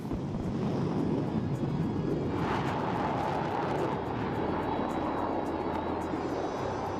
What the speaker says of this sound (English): And there she goes, Sukhoi taking off.